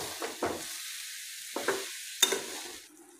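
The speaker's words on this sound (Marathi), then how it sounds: "याला सतत असं हलवत राहायचं आहे, जेणेकरून हे खाली लागणार नाही।" Coconut and sugar mixture being stirred in a pan over medium heat, giving a few soft scraping strokes with quiet gaps between them and a faint sizzle underneath.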